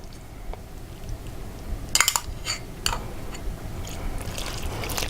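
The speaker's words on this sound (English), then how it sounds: "2 egg whites, beat them slightly" Two egg whites are beaten slightly in a bowl for spaghetti pie, heard as a quick burst of utensil clinks and taps against the bowl, then lighter scraping and clicks under a soft background hiss.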